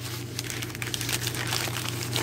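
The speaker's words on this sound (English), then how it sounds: "Get rid of this loud plastic bag." A plastic bag wrapped around Hot Wheels diecast cars is crinkled and handled, a quiet, close rustling that crackles unevenly for a couple of seconds.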